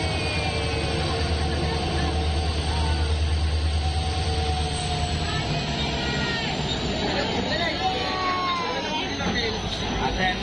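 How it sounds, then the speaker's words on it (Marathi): A train on the Thane to Chiplun route rumbles in at a platform with a low engine drone, screeching wheels and a busy crowd murmuring throughout. "घाई चालली आता आमची ट्रेन आली"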